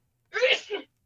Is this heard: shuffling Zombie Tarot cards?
no